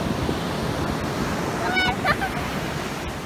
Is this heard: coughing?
no